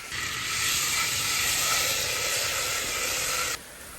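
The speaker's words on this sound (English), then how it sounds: "It's gonna sizzle." A loud, steady sizzle as red wine hits a hot pan, hissing continuously for a few seconds, then dropping off abruptly near the end.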